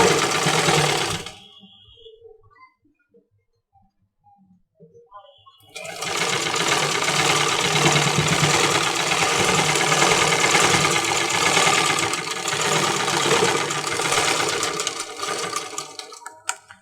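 A sewing machine joins the side seam of a baby frock, a short burst of stitching, then a few seconds of near silence, followed by a long loud unbroken run of rapid mechanical whirring close by.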